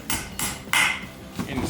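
A hammer taps metal parts while giant S550 brakes are installed on a 1967 Ford Mustang, four sharp clinking taps in quick succession, close and fairly loud.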